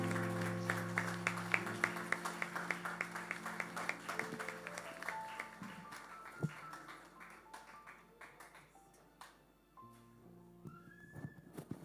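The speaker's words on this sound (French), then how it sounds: "Acclamons pour la gloire de Dieu." Congregation at a French-speaking church service clapping in a steady rhythmic beat, dense and sustained for several seconds, gradually thinning and fading toward the end while a sustained organ or keyboard tone carries underneath.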